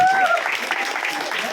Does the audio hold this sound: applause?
yes